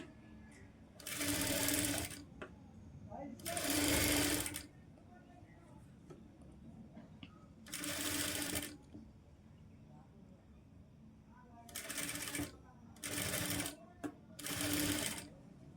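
A sewing machine stitches piping onto blouse fabric in six separate short bursts of fast whirring and clatter, close by, with quiet gaps between runs and someone speaking softly under and between them.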